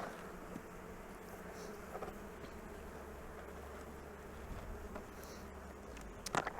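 Many honeybees buzz softly and continuously around a hive at close range in April, a low droning hum with occasional louder passes near the end.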